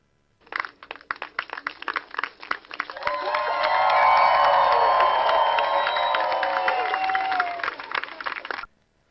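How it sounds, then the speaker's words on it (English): Studio crowd clapping and cheering, starting with scattered claps that swell into a loud, sustained wash of applause and shouts, then stops abruptly after several seconds. "Give them their round of applause, please."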